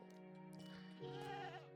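A goat in a Viking video game gives a short, faint bleat, a wavering animal cry heard alone against quiet game sound.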